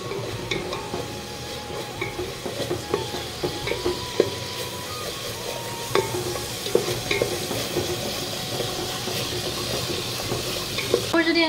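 Food stirred in a pan after a little water is added, giving a steady close sizzle with continuous scraping and clinking of the spoon against the pan throughout, and no talking.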